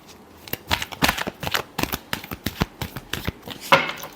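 Tarot cards are shuffled in quick, crisp riffles and taps, a rapid run of sharp papery bursts close by with a louder flurry near the end.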